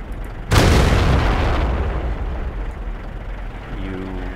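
A World of Tanks tank gun fires at a flashlight, one sudden loud blast followed by a long rumbling decay that fades over several seconds, with engine-like hum beneath.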